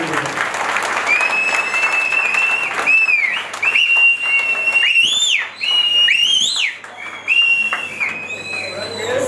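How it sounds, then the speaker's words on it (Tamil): At a first-anniversary family festival of a community welfare association in Chennai, a crowd greets a guest with loud, sustained applause, punctuated by repeated shrill whistles and some voices underneath. "பலத்த கரகோஷத்தோடு அவரை வரவேற்பார் அன்போடு கேட்டுக்கொள்கிறேன்"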